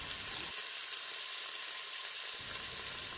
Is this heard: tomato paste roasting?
yes